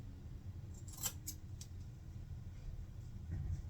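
Scissors cut hair straight across in a quiet room, with a few crisp, close snips spaced irregularly and then a final snip near the end.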